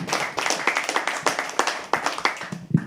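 A crowd claps steadily and rhythmically, sharp overlapping hand claps keeping a quick beat for several seconds, fairly close and loud.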